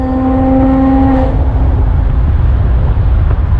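Modified exhaust on a BMW F30 or Porsche Boxster, a loud engine drone with a tonal note in the first second that fades into a rough, steady rumble.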